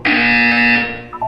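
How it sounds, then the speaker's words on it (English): A loud, harsh buzzer sounds once in the video game Portal 2, a single sustained electronic tone lasting under a second before fading, with no talking. "When you hear the buzzer, look down at the floor."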